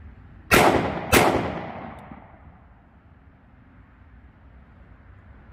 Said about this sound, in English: I've already marked the outs on the target, and I'll take 2 shots